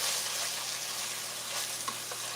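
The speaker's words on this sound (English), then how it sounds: "These vegetables, I'm going to let them cook just a little bit above a medium." Vegetables sizzle steadily in a pan over slightly above medium heat as they are stirred, a dense, constant frying hiss with occasional faint scraping, close and alone without talk.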